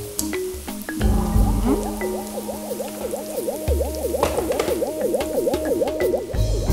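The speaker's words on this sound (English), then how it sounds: "I'm going to make this up to the litre mark with some water from the kettle." Hot water from a kettle poured into fish stock in a measuring jug, a steady close pour with bubbling, gurgling trickles running for several seconds, preceded by a few small clinks.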